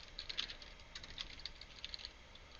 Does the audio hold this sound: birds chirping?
no